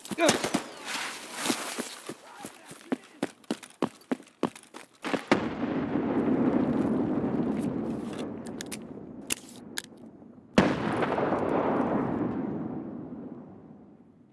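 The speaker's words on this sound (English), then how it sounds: "We throw a nade." A grenade goes off on the Shoreline map in Escape from Tarkov: a run of sharp clicks and taps, then two loud blasts, each trailing into a long, roaring rumble that fades away.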